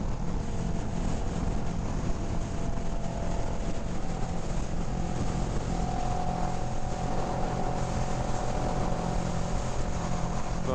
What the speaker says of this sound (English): we got a long line of bikes behind us